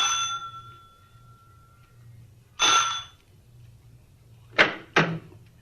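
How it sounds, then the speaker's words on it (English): A front doorbell rings as a radio drama sound effect, a sustained bell tone followed by a second ring, then two sharp knock-like hits near the end against a low background hum. "I rang the front doorbell."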